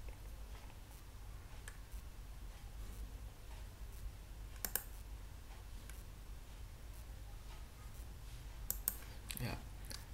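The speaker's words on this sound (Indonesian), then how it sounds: "kita klik tombol simpan" A single mouse click pressing a save button in school budgeting software, faint and brief amid a steady low room hum, with a few other soft clicks scattered around it.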